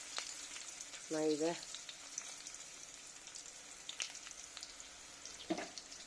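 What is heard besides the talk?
cumin seeds sizzling as they fry in oil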